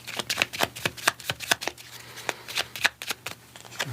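Divine doorway oracle cards are shuffled by hand, close up. Quick, rhythmic slapping and riffling taps come in a steady run with no talking.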